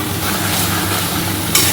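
Tomato puree added to spice masala frying in a pan for ghugni: a brief, loud, even sizzling hiss close up with a small clatter at the end, no talking.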